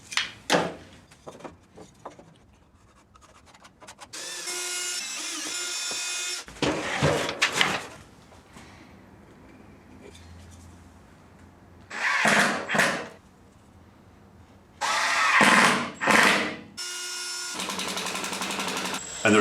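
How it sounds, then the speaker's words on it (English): A miter saw cuts a wooden ladder step: several loud bursts of whining motor and blade noise, separated by short quieter pauses and handling sounds. "then squaring it up on my miter saw"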